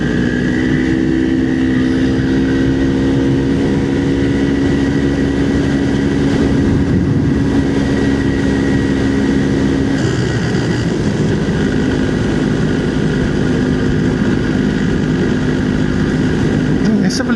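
A steady, loud engine drone from an MZ TS250/1 Supa 5 two-stroke motorcycle on a road test, droning continuously with a slight shift in pitch midway and no pauses.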